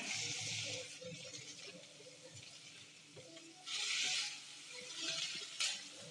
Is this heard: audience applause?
no